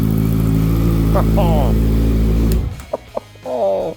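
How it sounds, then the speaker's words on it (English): A 2014 Honda CBR650F street bike idles loud and rough up close, then cuts out, leaving brief blips and a short exclamation from a person nearby. "Even for just a regular street bike, this sounds pretty hardcore."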